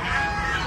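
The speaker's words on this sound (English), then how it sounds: "D is for duck." A duck gives a single short nasal honking quack, clear and close, alone without talk.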